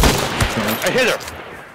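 Loud video game gunshots crack in a rapid cluster at close range, fading after about a second, with a voice speaking briefly over the shooting.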